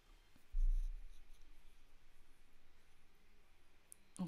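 A rubber brayer rolled over a gel press printing plate inked with Distress and Versafine inks gives a faint, soft rolling friction, starting with a brief low thump and then a steady light rasp in a quiet room.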